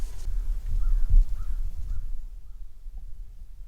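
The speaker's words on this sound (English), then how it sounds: "there's some pretty birds." Birds call outdoors: a few short, crow-like caws spaced about half a second apart stand out over a low, rumbling wind-like background, then fade toward the end.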